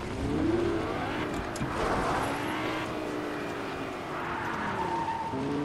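A car drives off with tires skidding and squealing, engine revs rising and falling in sweeping tones across several seconds, fairly close, with no talk.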